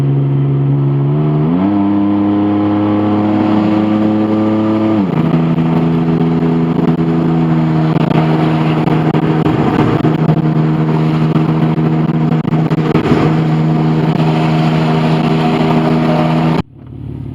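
A loud car engine running open headers idles with a deep, throaty rumble, its pitch stepping up as it revs, then cuts off abruptly near the end.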